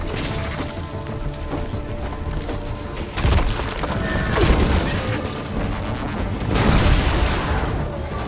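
Explosions in the video game Horizon Forbidden West: loud crashing booms and smashing impacts over a steady game soundtrack, with bursts around three, four and a half, and six and a half seconds.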